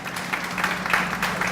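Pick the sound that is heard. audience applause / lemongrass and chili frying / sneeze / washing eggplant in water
audience applause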